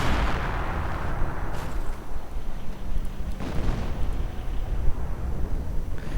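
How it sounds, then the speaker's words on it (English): Hummel self-propelled artillery fires in a World War II strategy video game, with heavy booms rising out of a dense, continuous roar of battle noise, loud and constant without any voices. "counter-artillery fire gets 1 Hummel again"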